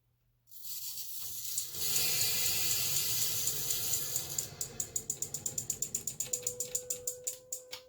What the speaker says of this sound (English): you can hear all the pipes filling up